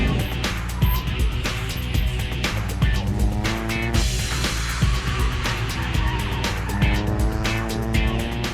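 A race car laps a circuit at speed, the engine loud and close with rising and falling revs through gear changes and brief pauses, continuous for several seconds.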